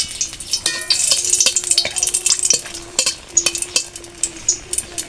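Two dried red chillies fry in hot oil in a pan for a big fish curry, giving a close, bright sizzle with a utensil repeatedly clinking and scraping against the metal, and no talk.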